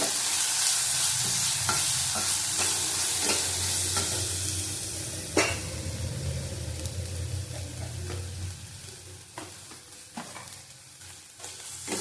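Ginger and garlic paste frying in a pan for stuffed pointed gourd dolma, a loud steady sizzle with rhythmic spoon scrapes and a few sharp knocks, easing slightly toward the end.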